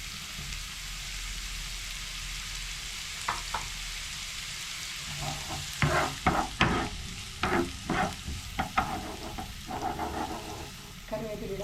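Onions frying in a pan for a banana flower cutlet: a steady low sizzle, with a burst of spatula scrapes and stirring clatter in the second half.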